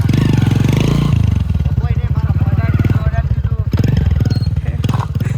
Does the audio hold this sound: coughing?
no